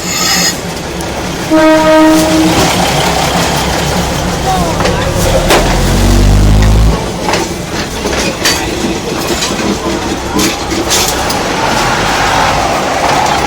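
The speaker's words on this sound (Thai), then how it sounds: "มาแล้วครับรถไฟมาแล้วครับ" A train rumbles past close by, its horn sounding in long steady blasts early on, with clattering wheels and a loud low roar in the middle.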